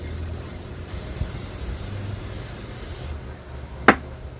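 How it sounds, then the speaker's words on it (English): Pam cooking spray hisses steadily from an aerosol can into a kitchen pan, a long, even spray close up that stops abruptly, followed by a single sharp click. "we are going to take some Pam cooking spray and layer it in there, nice and thick"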